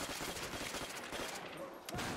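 Rapid game gunfire crackles steadily through Call of Duty: World at War zombie mode, a dense continuous fusillade of shots layered with other game sounds and faint voices.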